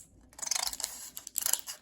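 A few quick, crisp snips of scissors trimming excess packaging close by, in two short bursts with a brief gap between them.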